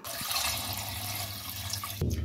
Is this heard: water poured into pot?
yes